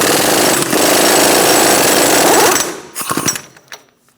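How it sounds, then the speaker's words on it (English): An impact gun rattles hard and continuously for about two and a half seconds, loosening the front hub nut on a Chevrolet Sonic with a 36mm socket, then cuts off into a few short bursts and clinks. "we're going to use a 36mm socket and take off this nut"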